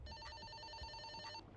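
A telephone rings in a horror video game, an electronic bell trill with quick repeating pulses that holds for over a second, then cuts off, fairly quiet and alone.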